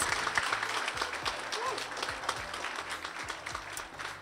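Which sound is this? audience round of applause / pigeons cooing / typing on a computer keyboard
audience round of applause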